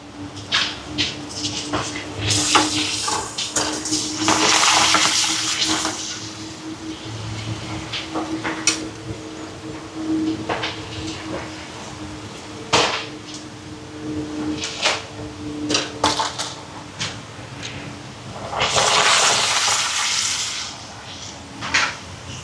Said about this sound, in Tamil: இனி அப்பளத்தை பொறிச்சு எடுப்பான்